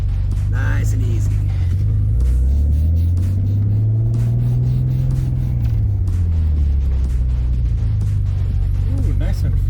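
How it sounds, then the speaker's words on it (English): A Nissan 300ZX (Z32) with new Project Mu brake pads rolls slowly over speed bumps, a steady low engine drone and rumble that rises and falls, heard from inside the car. "We're gonna roll over the speed bumps."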